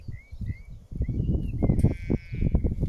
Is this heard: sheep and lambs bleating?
yes